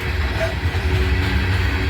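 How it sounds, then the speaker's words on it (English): A freight coal train led by an ET44A8 locomotive rolls past at Abbeville, a steady, loud, continuous low rumble and rail noise with no distinct clacks or horn. "Train comes out of Pennsylvania, goes down to Atlanta, makes a left turn, comes over to Abbeville."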